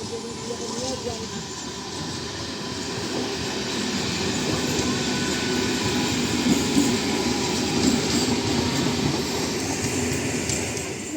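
A train at Bishwapara railway station: a steady, fairly loud rumble of rolling wagons with rhythmic wheel clatter, faint squeals and a busy murmur of voices in the background.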